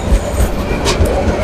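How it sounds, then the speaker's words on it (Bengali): A train pulls into Tongi railway station in Dhaka with a loud, close rumble and clattering wheels over rails, thick low roar throughout and brief higher screeches. "এই ট্রেন আইতেছে, তোমরা এদিকে আসো।"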